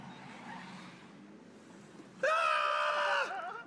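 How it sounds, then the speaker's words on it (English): People inside a self-driving car let out a loud, shrill scream lasting about a second, breaking abruptly over quiet road and cabin noise. "that scream is the visceral scream of humanity meeting advanced technology"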